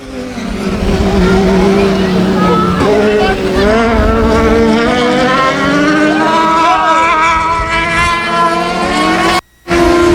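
Race cars roar continuously around a speedway oval off turn 4 past the flag stand, engine pitch sweeping up and down as several cars pass, loud and sustained with a brief dropout near the end.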